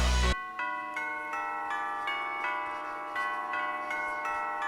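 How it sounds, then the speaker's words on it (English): A church bell solo in a music track rings out in a series of clear, sustained metallic strikes, each tone overlapping the last in a slow, steady rhythm after a brief loud opening hit. "So a church bell solo."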